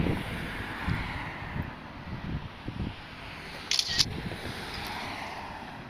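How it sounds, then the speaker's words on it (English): Gusty wind buffets the microphone outdoors at night, a low rumbling roar that swells and dips throughout, with a few brief higher clicks partway through. "Woo, that wind."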